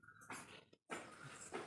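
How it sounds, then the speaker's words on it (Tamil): A dog shut inside a cardboard box gives short muffled whines and snuffles, faint and close, with brief scratchy rustles and one short silent gap. "அட்டைப்பட்டிக்குள்ள நாய்"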